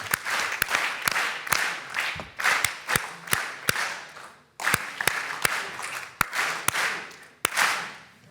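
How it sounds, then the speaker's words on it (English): A conference audience at an energy event claps in a counting-down pattern, sharp hand claps falling in groups with short pauses between them, loud and close with room reverberation and no talking. "a patented round of applause that I have learned by the Technical University of Mombasa in Kenya, which is 5 clap, then going down 4, 3, 2, 1"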